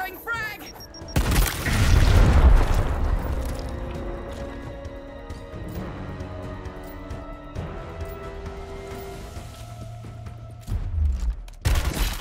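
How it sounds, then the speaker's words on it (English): A frag grenade goes off in the Gears Tactics video game, giving a heavy, booming blast, then rolling rumble and scattered gunfire crackling through the rest, with a second burst of shots near the end. "Outgoing frag!"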